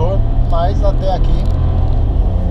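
From inside the cabin of a VW T-Cross with the automatic 1.0 TSI engine, a low, steady engine rumble rises under hard acceleration, sitting beneath a person talking throughout.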